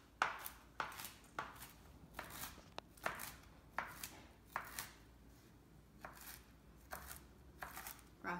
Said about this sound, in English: And just go ahead and give them a little chop.